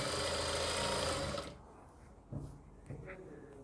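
A sewing machine runs in a steady close whir while stitching a kurti, stopping abruptly after about a second and a half, followed by a few faint handling clicks and bumps.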